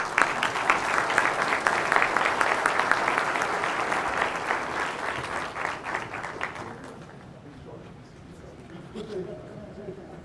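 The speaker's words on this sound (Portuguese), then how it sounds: "só dando salva de palmas para o doutor Porto" An audience applauds Dr. Porto at a formal award ceremony, a dense, steady wash of clapping that fades after about seven seconds, leaving quieter murmuring and a voice beneath.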